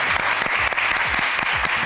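A television talent-show audience gives a contestant loud, sustained applause, a dense, continuous roar of clapping with a few sharper individual claps popping through near the front.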